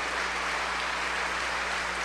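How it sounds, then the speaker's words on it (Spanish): A church congregation applauding in honor of the Virgin of Guadalupe, a dense, even wash of many hands clapping at steady loudness, with a low hum underneath. "¿Y qué les parece si le damos un fuerte aplauso a nuestra Madre Santísima, a la Virgen de Guadalupe?"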